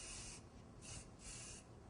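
Airbrush-style spraying of colour onto rice paper autumn leaves for a wedding cake, a steady close hiss in repeated short bursts, quiet and alone.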